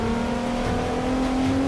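An Audi TTS engine in the Forza Motorsport 6 racing game holds a steady, loud drone at a constant pitch for under two seconds, alone with no talk over it.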